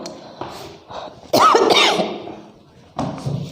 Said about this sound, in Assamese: চক পেঞ্চিল সোমাই মোৰ কাহ আহি গৈছে